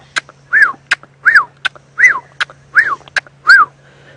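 A person whistles and voices an imitation of the northern South African black-backed puffback call: repeated pairs of sharp clicks and rising-falling whistled notes, about six cycles in an even rhythm, close and clear against a faint steady hum.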